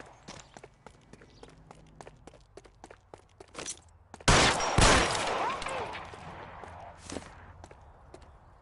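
Gunfire in the crime video game L.A. Noire: running footsteps and scattered light impacts lead into a sudden loud volley of overlapping shots, followed by a ringing, decaying tail and a few later bangs.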